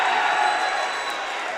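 A basketball crowd at a varsity high school game cheers loudly during a free throw, a dense sustained roar of voices that fills the gym evenly for the whole moment.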